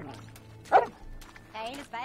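A dog in the video game Red Dead Redemption 2 gives a single bark, short and close, then game characters talk over faint ambient sound.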